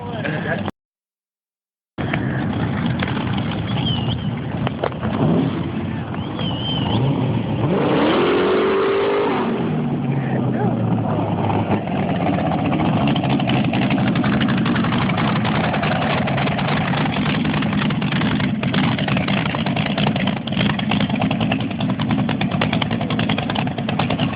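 A Boss Hoss motorcycle revs hard during a Bike Week burnout, its roaring engine rising and falling in loud, sustained pulls while spectators talk nearby.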